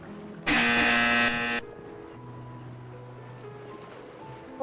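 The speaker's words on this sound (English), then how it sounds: "Extremely incorrect loud buzzer." A loud, harsh wrong-answer buzzer blares once for about a second, standing out sharply before fading into a low background of music and murmur.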